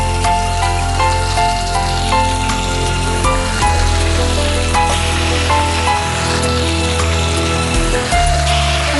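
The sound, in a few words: chicken pieces sizzling while being sautéed in a pan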